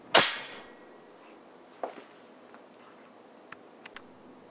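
A homemade spool valve air cannon fires with one sharp, loud burst of released air, followed by faint ticks and small clicks in a quiet room.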